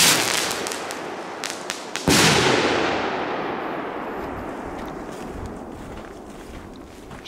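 A sharp, loud bang from fireworks rings out and decays into a long rumbling echo, preceded by a few crackling pops.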